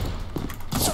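A grenade blast in a video game: a single dull, heavy thump, loud and close, with a short rumbling tail and no voices.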